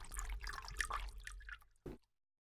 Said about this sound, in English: It's a flavoured water dispenser.